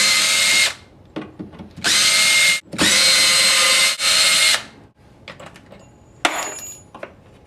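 A power drill backs screws out of old door catches during a doorknob replacement, with several loud high-speed whirring bursts separated by pauses and small metallic clinks of parts being handled.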